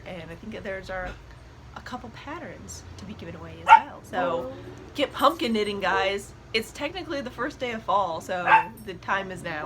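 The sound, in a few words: dog barking and yipping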